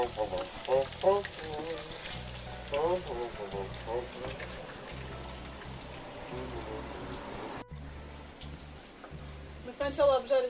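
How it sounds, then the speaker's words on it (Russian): Potatoes frying in oil in a pan for a Spanish-style fritura with meat and vegetables, a soft steady sizzle running underneath while a person talks over it throughout. "Мы сначала обжарили перец в масле, потом сейчас жарим картошку."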